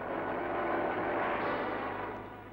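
An F-27 propeller airliner drones in flight in a 1972 film, a dense steady engine roar that fades slightly at the end.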